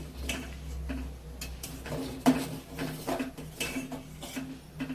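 Rice porridge (koozh) stirred in a cooking pot for a temple offering: irregular soft ladle scrapes and light clicking taps against the pot, close by, with a low steady background hum and no talking.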